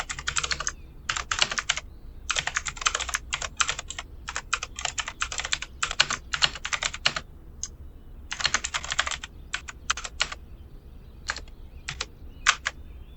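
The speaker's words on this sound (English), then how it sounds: "Next thing you're going to do, type this again." Code typed on a computer keyboard, bursts of quick close key clicks separated by short pauses, continuing steadily throughout.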